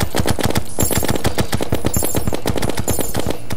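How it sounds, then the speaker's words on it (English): Golden bullets are fired in rapid automatic bursts in the video game Terraria, with loud, evenly spaced shots that run without a break. "Let's try these golden bullets."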